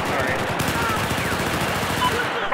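A full-auto gun fires in Battlefield 4, a dense continuous stream of rapid shots that fills the clip at steady loudness with game ambience behind it, no pauses between rounds.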